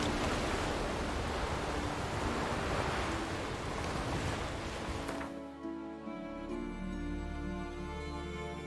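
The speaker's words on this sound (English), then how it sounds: "huge waves." Heavy ocean surf and wind roar in Witcher 3 for about five seconds, then cut abruptly to quieter lapping water and low ambience, loud and continuous with no voices.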